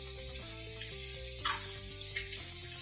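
Sliced garlic, chopped ginger and green onions sizzle steadily in a hot pan for veggie ramen, a loud continuous frying hiss with soft music playing underneath.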